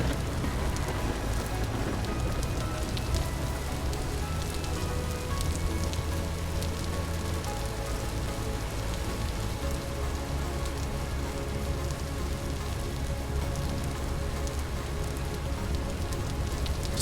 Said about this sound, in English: It's a shame it's raining.